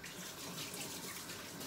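A kitchen tap runs steadily while raw chicken is rinsed in the sink during Jamaican-style Chinese cooking, a continuous close splashing rush of water with no voices.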